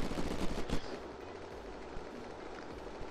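Gunfire in the video game Unturned during a base raid: a short burst of rapid shots at the start, then a quieter rumbling, noisy background with no talking.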